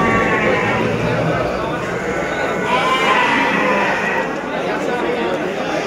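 Garut sheep bleat repeatedly at a busy livestock market, with constant crowd chatter and nearby voices mixing under the animal calls throughout.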